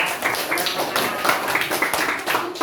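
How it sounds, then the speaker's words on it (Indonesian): Applause for a student group in a classroom presentation session, steady dense clapping from many hands filling the whole stretch at moderate loudness, with no speech over it. "Tepuk tangan buat kelompok 3."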